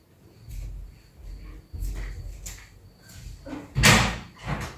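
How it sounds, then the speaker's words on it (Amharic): A door is opened inside a home, giving a few muffled clunks and handling knocks, with one sharper, louder thump toward the end. "ቆይ በሩ ልክፈትለት።"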